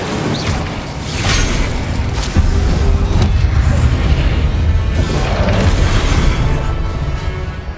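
An Incendio fire spell is cast in the video game Hogwarts Legacy, building into a loud, sustained fiery roar with booming low rumble that holds for several seconds before easing off.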